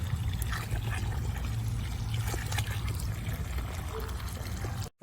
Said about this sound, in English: I just make sure I water this thoroughly